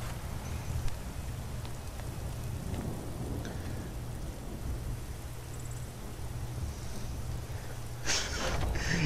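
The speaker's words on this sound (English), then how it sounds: "It only rains here too." Rain in the video game Skyrim, a steady hiss of rainfall with a low rumbling bed, holding even and moderately loud throughout, then swelling briefly near the end.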